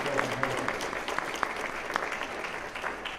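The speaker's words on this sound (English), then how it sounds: "may I ask that we give our panelists another general round of applause" An audience applauds panelists at a conference session, steady even clapping of moderate loudness that continues without pause from start to finish.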